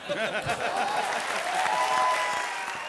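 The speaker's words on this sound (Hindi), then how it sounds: "जोरदार तालियां" Studio audience applause at a comedy show, a dense, steady wash of clapping that stays loud and even for the full stretch, with no talk over it.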